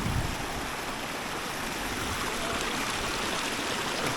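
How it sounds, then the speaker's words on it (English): Snowmelt creek in the Austrian Alps, flowing right alongside a hiking trail near Formarinsee, a steady close rushing and gurgling of water with no break. "This part of the trail, there's a creek flowing right along it."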